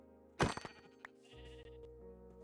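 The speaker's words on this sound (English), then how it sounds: "Look at all these sheep right here." A Minecraft sheep gives one sharp, loud bleat early on, followed by a few brief clicks and then soft sustained game tones.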